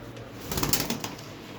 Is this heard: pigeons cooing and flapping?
yes